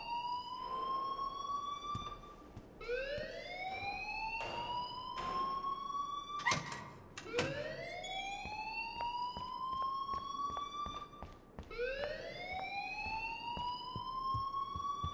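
In the Life Is Strange video game, a siren-like alarm sweeps upward in repeated rising wails, loud and continuous for the whole stretch, with a few sharp knocks and thumps in between and no talking.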